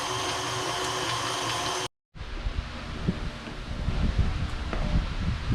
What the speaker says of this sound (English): Well, the grinding of the beef is done.